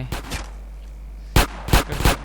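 Gunshots fired into the sky in the game GTA San Andreas: a few quick shots at the start, a short lull, then three or four loud, close, sharp reports, with no talk.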